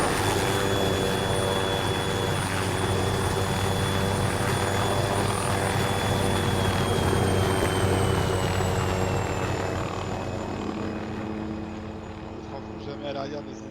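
A helicopter in a video game drones loud and steady, its engine whine and rotor thrum continuing without a break before easing off slightly near the end.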